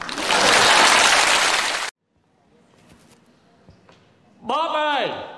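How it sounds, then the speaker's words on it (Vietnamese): A theatre audience at an overseas Vietnamese comedy stage show breaks into loud, dense applause that stops abruptly, followed by quiet room noise and then a voice speaking. "Hết rồi, vỗ tay"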